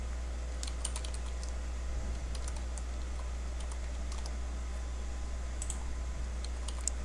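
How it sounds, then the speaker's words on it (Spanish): Computer keyboard typing while entering data into an Excel spreadsheet, with light, quick key clicks in irregular bursts heard close but quietly over a steady low hum. "Cuando se ingresa datos se escribe y se presiona la tecla Enter, o se pueden utilizar las flechas del teclado."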